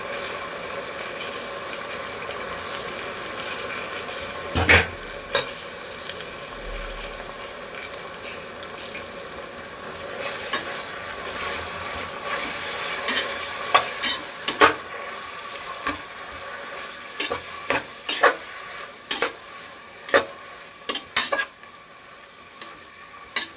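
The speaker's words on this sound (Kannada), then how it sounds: "ಈಗ ನಾನು ತೊಳೆದಿಟ್ಕೊಂಡಿರೋಂಥ ಮೆಂತ್ಯ ಹಾಕ್ತೀನಿ." Washed fenugreek leaves going into a frying pan and being stirred: a low, continuous sizzle with scattered scrapes and clacks of a utensil against the pan, growing busier toward the end, heard close with no talking.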